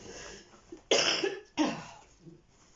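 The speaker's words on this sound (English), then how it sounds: "Excuse me, I think I'm going to cough." Two quick, forceful coughs close to the microphone, one right after the other, in an otherwise quiet room.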